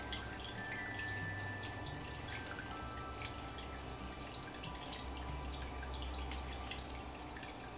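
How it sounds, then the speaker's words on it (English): Small drips of water trickle near a tarantula as it is given a drink, soft repeated droplets against a quiet background with no voices. "I do need to give her a little bit of water."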